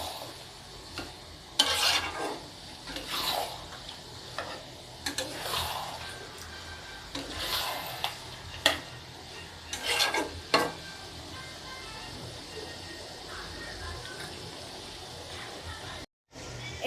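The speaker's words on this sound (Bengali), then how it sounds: "পাশে মাংস কষাচ্ছে" Goat meat is stir-fried into kosha in a pan. A low sizzle runs throughout, broken by repeated bursts of stirring and scraping every second or two, then briefly drops away near the end.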